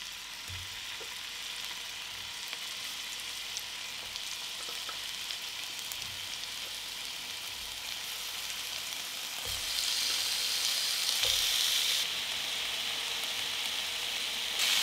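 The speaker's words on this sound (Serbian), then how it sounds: "Na zagrejano ulje spuštam meso." Meat laid into preheated oil in a frying pan sizzles quietly and steadily, a soft crackling hiss with faint pops throughout, growing slightly louder toward the end, with no voices.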